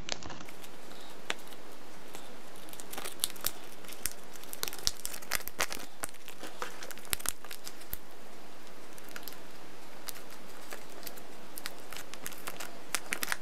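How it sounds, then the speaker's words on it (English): A small paper pizza box for a DIY candy kit is folded and taped down, giving faint, scattered crinkles and sharp little tape clicks and crackles in a quiet room. "Fold that over like that and tape it down"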